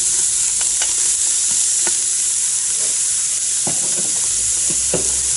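Food stirred in a pan, with scraping strokes at irregular intervals over a steady sizzling hiss, alone and fairly close.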